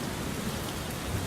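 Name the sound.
rain in a Legend of Zelda video game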